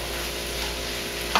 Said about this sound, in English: So really important to mix it all up so the curry is going to get into the potatoes